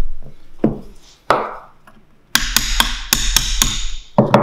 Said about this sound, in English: for that, we're going to use a hole punch and a small hammer